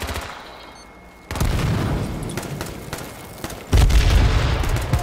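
Gunfire in the survival shooter H1Z1 crackles out in loud bursts of rapid shots, with a short lull and then another heavy volley, echoing with booming weight.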